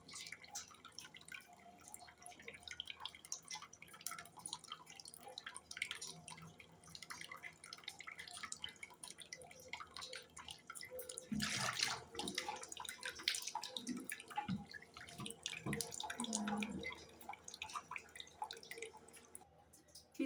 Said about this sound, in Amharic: ከዛ በኋላ እንደዚህ አድርገን በቀዝቃዛ ውሃ እንታጠባለን።